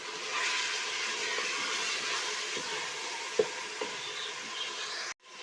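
Garlic ginger paste fries in a pan for lamb karahi, a steady bright sizzle with a few soft pops and stirring knocks, ending abruptly.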